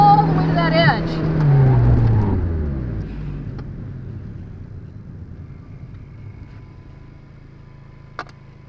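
Car accelerating at full throttle on a track at a driving school, a loud engine rising in pitch through the first seconds then easing off into a fading rumble and quieter road noise.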